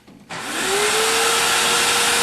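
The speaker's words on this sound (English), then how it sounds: "the vacuum is sucking down through the box here, through all these little holes and into the vacuum" A vacuum-forming machine's vacuum switches on abruptly, its motor jumping from quiet to a loud, steady rushing roar with a faint rising whine that holds constant throughout.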